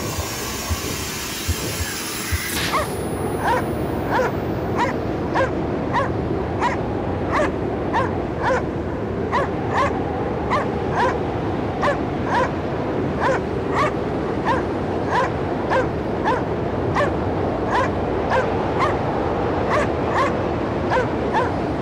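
A dog in the game Cryostasis barks and yips in a steady, evenly spaced series of sharp, loud calls over a low icy background rumble, following a brief burst of noise at the start.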